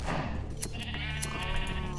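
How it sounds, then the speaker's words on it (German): Sheep in the Minecraft video game bleat repeatedly, with several wavering, nasal calls close up in quick succession and no talk. "Ich rasiere jetzt mal Nefis Schafe hier"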